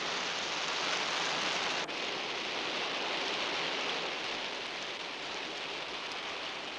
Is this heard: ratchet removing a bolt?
no